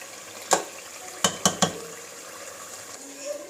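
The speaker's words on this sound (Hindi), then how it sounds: "अब फ्लेम हाई कर लेनी है और इसे तकरीबन 1 से 2 मिनट के लिए ऐसे फिर से फ्राई करना है।" Chicken malai handi frying on a high flame in a pot, a steady sizzle with a few sharp metallic clinks of a spoon against the pan, close and moderately loud.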